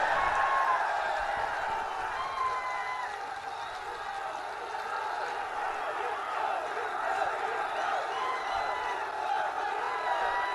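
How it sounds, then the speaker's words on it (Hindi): At an outdoor election rally, a large crowd claps and cheers continuously, a broad, steady wash of applause heard from a little distance with a faint murmur of voices throughout. "जोर से ताली बजाओ"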